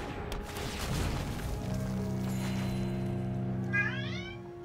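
A pet cat meows in a room, with a couple of rising, wavering cries near the end over a steady electronic hum and some background noise.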